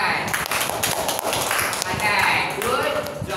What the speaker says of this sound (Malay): Okey, berikan tepukan.